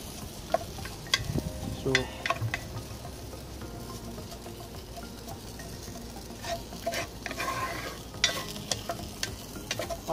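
Food being stirred in a Dutch oven, with scraping, clinking and a light sizzle running steadily throughout, nearby and fairly quiet.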